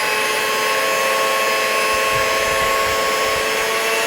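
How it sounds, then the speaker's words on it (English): An electric hand mixer whisks butter and eggs in a bowl, giving a loud, steady, close motor whir that runs unbroken for the whole stretch, with no voices. "Whisk the butter and the eggs."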